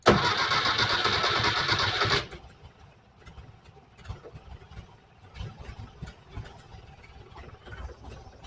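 The engine of a 1968 Volkswagen Type 3 with fuel injection cranks loudly for about two seconds, then catches and settles into a quiet idle with faint clicks and knocks.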